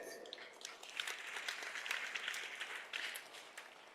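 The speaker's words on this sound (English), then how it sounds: "give round of applause to both of them" Crowd applause for the Uzbekistan and India teams at the 14th Acrobatic Gymnastics Asian Championships in Goa: a steady patter of many hands, fairly faint and distant, holding evenly for about four seconds.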